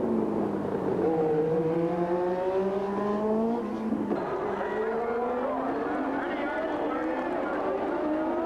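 1983 Formula One Brabham and Ferrari cars racing on the Detroit street circuit, high engine whines rising and falling in pitch as they accelerate, heard faintly beneath steady commentary.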